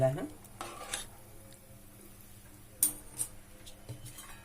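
Beetroot pieces and soaked chana dal stirred in a pan, a quiet kitchen scene with a few distinct scrapes and clinks of a utensil against metal amid soft background hiss.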